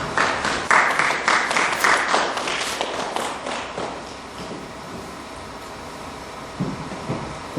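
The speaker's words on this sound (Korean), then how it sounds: "여러분 큰 박수로 맞이하겠습니다." An audience greets an arriving speaker, a former ambassador, with a burst of loud applause that peaks early with sharp claps, then thins and fades to scattered clapping near the end.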